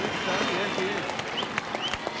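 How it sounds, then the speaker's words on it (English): A large roadside crowd applauds and cheers runners at the 1983 London Marathon, a steady wash of clapping and voices under close commentary. "to be received with such a crowd as there is"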